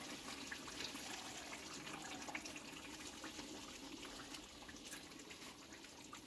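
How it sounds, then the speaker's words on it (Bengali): Water pours steadily from a pot during home biryani cooking, a continuous close splashing gush that holds at an even level from start to finish with no talk. "একটু জল দিয়ে দেবো"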